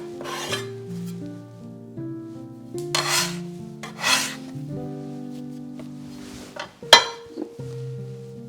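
Ukrainian Christmas bread dough (kolach) kneaded by hand on a lightly floured surface, giving soft rubbing and pressing sounds in bursts, with a few light clinks, over gentle background music.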